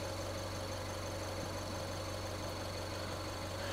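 A car engine idles steadily with a constant low hum and faint mechanical ticking, close and unchanging for a few seconds while fuel trims are checked with an Ancel DS600 scan tool, with no talk.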